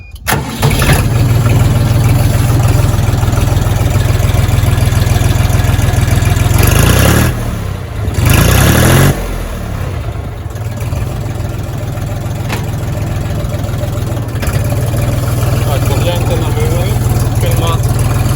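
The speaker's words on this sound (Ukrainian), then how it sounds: "Давайте заведу його. Слухайте роботу двигуна." A Foton FT 244 HXN mini tractor engine starts up and settles into a steady, loud idle, with a brief dip in the middle before the chugging continues.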